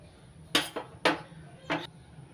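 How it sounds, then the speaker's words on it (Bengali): Green chillies land on a wire mesh for roasting roti, giving three separate close metallic clanks spaced about half a second apart over quiet background. "এবার দুটো কাঁচা লঙ্কা একটু ফাটিয়ে নিচ্ছি, ফাটিয়ে জালির মধ্যে দিয়ে পুড়িয়ে নিচ্ছি"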